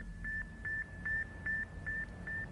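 Faint Sputnik satellite radio signal picked up on a 20 MHz receiver, a cricket-like chirping beep repeating about every 0.4 seconds in steady rhythm over a background of static and hiss.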